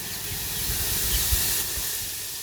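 Fennel seeds hitting hot oil in a pan while cooking a snail curry, giving a steady, close, broadband sizzling hiss that holds level throughout with no talking.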